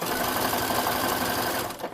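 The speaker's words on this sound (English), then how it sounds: "do your front and back V's on a sewing machine" A sewing machine runs steadily for about two seconds while stitching the front and back V neckline of a gala gown, its fast, even motor whir close and continuous before slowing slightly at the end.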